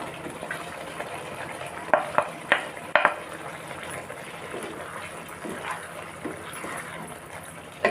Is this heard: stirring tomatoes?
yes